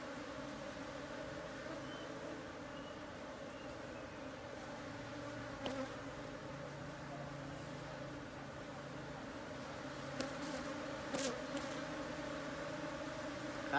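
Honeybees drone around hives at a bee farm on a fine morning after a honey harvest, a constant close buzzing hum with a few insects passing near, and no one speaking.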